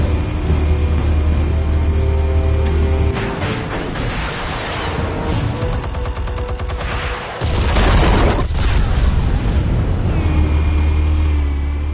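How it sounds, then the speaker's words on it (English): Explosives go off in a Batman scene, a dense, loud run of booms and crackling blasts that swells and rolls on for several seconds, with a brief dip before a fresh heavy burst. "Explosives armed. Fire when ready."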